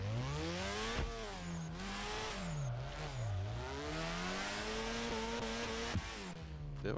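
A car drifting in Drift21 sends its engine rising and falling through repeated revs and throttle swings, with squealing tires and a steady loud drone, close and without talk.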